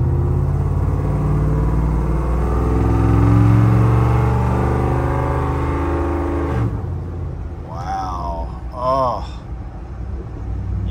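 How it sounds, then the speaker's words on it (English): A 1978 Ford Bronco XLT Ranger with a Coyote V8 swap rumbles through its exhaust while driving, a deep steady drone that swells, then cuts off abruptly before a voice speaks. "how awesome and badass that exhaust sounds"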